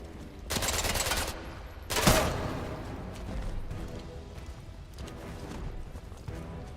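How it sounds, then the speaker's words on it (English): Gunfire rings out in the game Atomfall: a couple of sharp bursts of shots near the start, then scattered fainter cracks and rumble. "I'm shooting."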